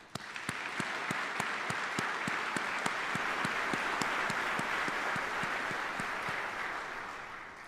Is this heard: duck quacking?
no